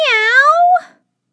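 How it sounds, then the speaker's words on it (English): A single drawn-out cat meow from inside a house, rising then falling and fading away, loud and close, with no other sound around it. "Meow!"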